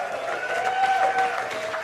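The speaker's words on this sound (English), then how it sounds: "A round of applause" Audience applause at a Dave Chappelle stand-up comedy show, a brief, moderately loud crowd clapping with a faint tonal hum underneath, lasting under two seconds.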